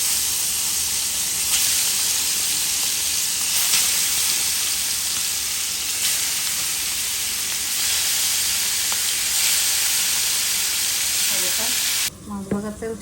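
Hot oil for frying fish sizzles steadily in a pan, a loud continuous crackle with no talk, until soft clatter breaks in at the very end.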